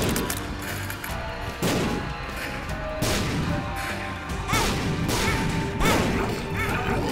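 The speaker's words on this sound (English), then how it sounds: "these bombs are like miniature bombs." Miniature bombs explode in a video game, a rapid series of loud, close crashing blasts and bangs recurring roughly every second, dense and harsh with no talking.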